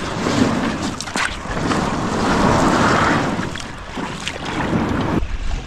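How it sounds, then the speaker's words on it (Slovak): Fast-flowing water at Kráľová reservoir during a rainy carp-fishing trip, heard as a steady, fairly loud rushing wash with wind buffeting the microphone throughout and no voices. "Strašne rýchlo prúdi voda."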